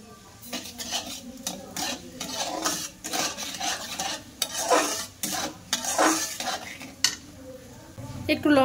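Palm pulp and sugar being stirred in a wok, heard as bursts of scraping and clanking of a utensil against the metal pan, irregular and close, with soft gaps between strokes.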